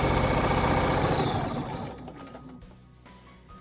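A sewing machine quilting along the ditch of a fabric seam runs in a loud, fast, steady mechanical stitching whir that gradually eases and quiets toward the end, with no talking.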